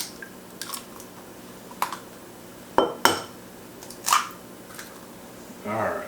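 Two eggs cracked into a bowl for pancake batter, heard as a handful of sharp taps and clinks against the rim spread over several seconds, followed by a short stretch of talking.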